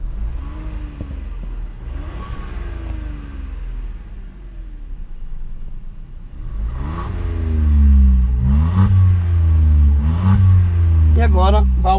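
A 2023 Volkswagen Nivus Highline engine revs with its exhaust valve closed, giving a deep, muffled rumble that swells in repeated climbing revs toward the end, close and loud.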